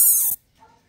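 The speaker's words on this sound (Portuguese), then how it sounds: "Mas olha esse cachorro, cara." A 45-day-old puppy gives a single sharp, high-pitched whimpering yelp that slides downward in pitch, followed by a fainter, shorter whine.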